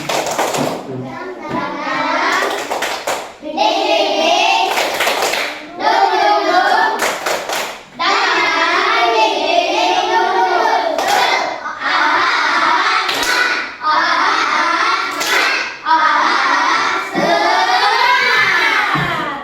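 A group of children claps in quick rhythmic patterns, chanting along in bursts, close and lively with short pauses between rounds.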